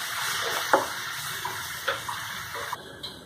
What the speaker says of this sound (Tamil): தேவையான தண்ணி ஆட் பண்ணியாச்சு.